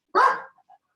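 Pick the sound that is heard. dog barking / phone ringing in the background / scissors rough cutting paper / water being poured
dog barking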